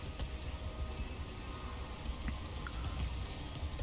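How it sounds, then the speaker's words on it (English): Hailstorm in the underwater survival game Subnautica: a steady, dense rattle and patter of hail hitting surfaces, loud and continuous throughout with no talk. "Running around in golf balls or softball-sized hail is not what my first choice would be"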